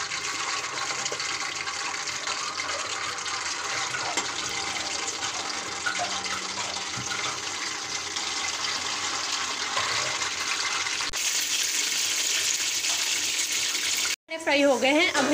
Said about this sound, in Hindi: अब हम पकोड़े फ्राई करेंगे।